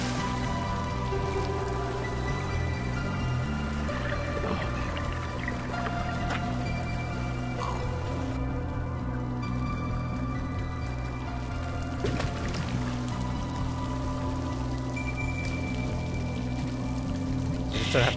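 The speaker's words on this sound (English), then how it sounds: "it's like where the water's leaking out" Water leaks from a pipe and swirls into a small whirlpool in the Ministry of Broadcast video game, a steady pouring, splashing trickle that runs without break throughout, moderately loud, under a faint game music bed.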